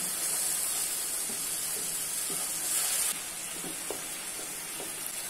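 Steady hissing sizzle from a pan as chopped green chillies and tomato puree go in, for aloo gobi, with soft stirring clicks and a drop in intensity partway through.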